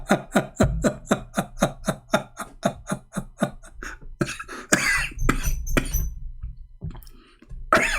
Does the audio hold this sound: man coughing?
yes